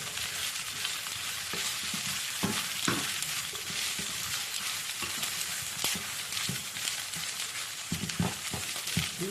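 Onions sizzle and fry in a pan with steady crackling hiss, occasional stirring clatters on top, close and fairly quiet, no talk.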